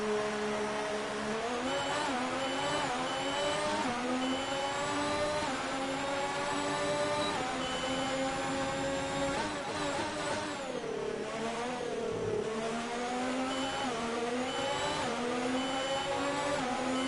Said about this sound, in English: It's my first time driving the Ferrari on the 2019 game.